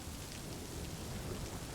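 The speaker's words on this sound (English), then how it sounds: "enjoy some allegedly true scary stories with the relaxing or perhaps ominous sound of rain" Soft, steady rainfall with a low rumbling undertone of thunder, a continuous even wash of sound with no voices.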